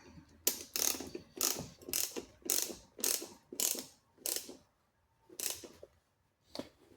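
Ratchet wrench tightening bolts on a Tusk Pilot saddle bag mount on a KLR650 motorcycle, close crisp bursts of rapid clicking in repeated strokes with short pauses, then a longer gap and a few final strokes.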